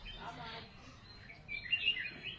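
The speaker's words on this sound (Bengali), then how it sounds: "আর শুনতে পাচ্ছ একটা পাখির আওয়াজ?" Small birds chirp among green trees in the hills in the morning, brief high tweets scattered over faint background noise, fairly distant and soft.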